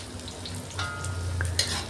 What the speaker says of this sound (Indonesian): Kita masukkan dulu bawang putih cincangnya. Kita tumis sebentar.